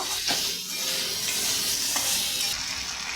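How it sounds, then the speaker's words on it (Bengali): Spices frying for a boal fish and taro curry hiss steadily as a spoon stirs and scrapes the pan in a few close strokes, with no talking. "দিয়ে ভালো করে নাড়াচাড়া করব।"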